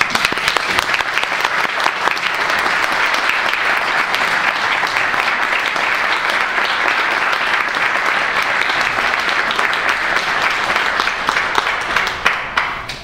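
Steady, full applause from an audience at a lecture hall event runs for several seconds as a bishop is welcomed, then thins to scattered claps at the end.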